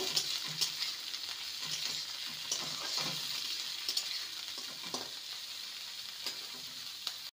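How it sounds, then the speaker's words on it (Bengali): Shredded cabbage and capsicum stir-fried in a hot pan, a continuous bright sizzle punctuated by repeated scraping and tapping strokes of a spatula, close up, with no voices. "আর দেব বাঁধাকপি কুচি। ভালো করে নেড়ে নেব।"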